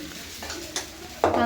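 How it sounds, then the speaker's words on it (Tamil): Dosa batter poured onto a hot pan, brief scraping and stirring touches followed by a sudden loud sizzle that swells at the end, close and without talk. "தோசை ஊற்றுறேன், பார்க்குறியா?"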